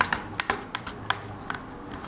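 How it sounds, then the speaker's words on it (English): A replacement keyboard for a Toshiba C55 laptop being pressed down into place, giving a quick series of light, close plastic clicks and taps at an uneven rhythm, with no talk. "Then you want to push down the keyboard downwards."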